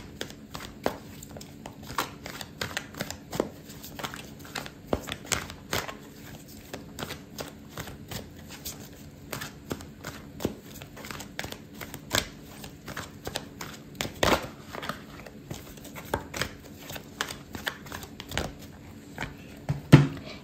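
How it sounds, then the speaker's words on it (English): Tarot cards being shuffled and pulled, heard as a long run of soft, quick riffling clicks and flicks at close range, steady throughout with occasional louder snaps. "I'm going to pull out a card for your advice"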